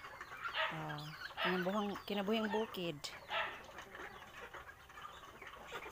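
Farm fowl including Rhode Island and native chickens, turkeys and ducks, with several close clucks and rooster-like calls in bursts as someone talks over them.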